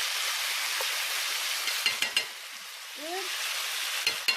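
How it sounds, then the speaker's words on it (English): Chicken and garlic sizzle and fry steadily in a pan for fajitas, a continuous close hiss broken by a few stirring scrapes and clicks, with one brief word spoken near the end. "gonna cook this until the chicken is all tender and cooked"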